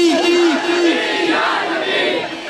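Crowd at a torch-lit Rabi ul Awal religious procession in Chiniot answering a slogan in unison, a loud massed chant of several voices with a leading voice over it, near and continuous.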